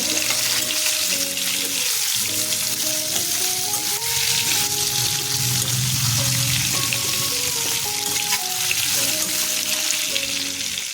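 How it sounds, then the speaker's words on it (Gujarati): Bitter gourd curry sizzling in a pan with a steady, loud hiss and bubbling as liquid hits the hot oil, with music playing throughout. "હવે આપણે તેમાં થોડું પાણી ઉમેરીશું"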